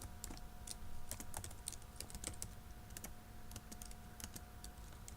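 Steady typing on a computer keyboard while entering company address details into QuickBooks, with dense, irregular clicking keystrokes close up and continuous over a low hum, no voices.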